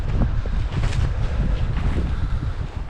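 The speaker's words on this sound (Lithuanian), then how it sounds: "iš tos pusės vėjas" Strong gusty wind buffets the microphone in a winter forest beside a lake, a loud rumbling roar that swells and dips throughout with no voices.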